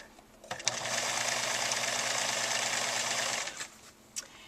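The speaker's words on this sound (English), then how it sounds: "So I'm going to backstitch here." A sewing machine stitches a flower pillow in one close, steady run of about three seconds with a buzzing whir, starting and stopping cleanly between light handling sounds.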